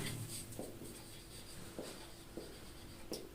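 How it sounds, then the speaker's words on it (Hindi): Pen scratching on paper while a narration line is written into an accounting journal entry, quiet short strokes coming in small bursts with pauses between them, close and soft. "तो यहां पे हम नरेशन लिखेंगे"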